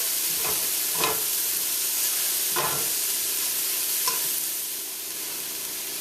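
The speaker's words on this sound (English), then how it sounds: "You can certainly chop this up finely and give everything a quick stir" Cabbage and stewed pork being stirred in a hot pan give a steady broadband sizzle with a few soft scraping strokes of the utensil. The sizzle is close and constant, eases slightly near the end, and no one speaks.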